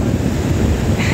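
River water rushes steadily through a high Andean puna setting, a loud, dense, continuous roar with wind buffeting the microphone throughout.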